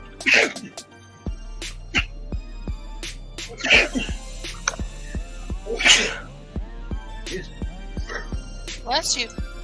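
A sneeze bursts out among several sharp bursts over a steady low hum and a game's background music, with people talking in between.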